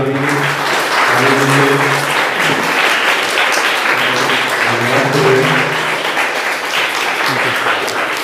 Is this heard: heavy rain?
no